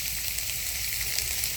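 Unripe Malabar spinach fruits cooking in a pan, a steady soft sizzle of frying with faint crackles, heard close and alone.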